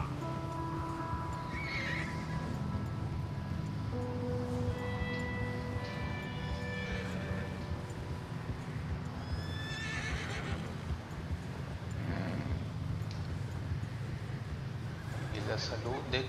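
A horse in the Red Dead Redemption 2 video game neighs and whinnies several times, with hooves clip-clopping at close range over continuous game background sound and voices.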